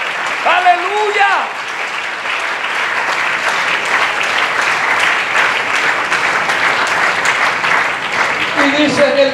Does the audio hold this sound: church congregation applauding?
yes